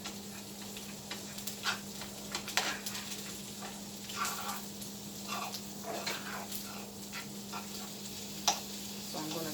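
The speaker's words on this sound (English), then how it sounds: "I'm stirring from the bottom to make sure everything gets heated" Shrimp hibachi rice sizzles softly in a pan while a utensil scrapes and stirs from the bottom, with intermittent clinks and scrapes over a low, steady frying hiss.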